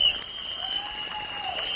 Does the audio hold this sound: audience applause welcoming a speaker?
yes